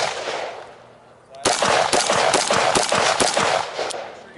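A rifle or carbine fires a rapid string of loud, close-range shots on a range, sharp cracks in quick succession after a quiet moment of faint talk.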